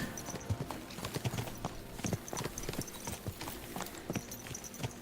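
Rapid hoofbeats clatter steadily as horses gallop at a quick, rolling rhythm in the video game Kingdom Come: Deliverance 2, with a faint whinny and some light background noise.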